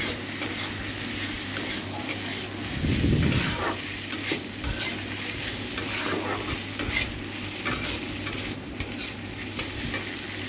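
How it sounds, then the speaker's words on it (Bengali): Pasta being stirred with spices and a little oil in a pan: continuous frying sizzle with repeated spoon scrapes and clinks, one louder rustling stir near the middle, no talking. "পাস্তাগুলো দিয়ে দিলাম দেওয়ার পর মশলা ভালো করে একটু মিশিয়ে নেবো"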